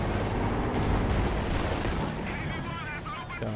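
A KV-1 tank and infantry weapons fire on grenadiers in a WWII strategy game, heavy booming blasts and gunfire thundering steadily under a caster talking excitedly.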